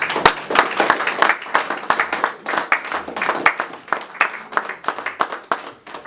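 A church congregation at a prophetic worship service claps and applauds in praise of the Lord, producing dense, rhythmic bursts of many hands clapping together, loud and close, continuing for several seconds.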